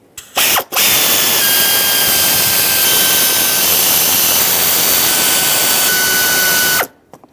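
Ratchet wrench spinning out 10mm ignition coil bolts on a Ram 2500 6.4L V8 valve cover, a fast continuous clicking run lasting several seconds, preceded by a short burst and ending abruptly.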